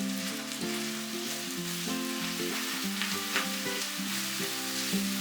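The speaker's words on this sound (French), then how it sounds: "Y faire saisir une vingtaine de secondes le bœuf." Beef searing in hot oil in a sauté pan, a continuous bright sizzle heard close up under a steady tonal background layer.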